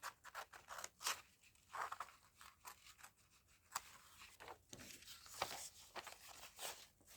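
Scissors snip through stamped paper labels in a steady run of short, crisp cuts with brief pauses between them, close by and with no talking.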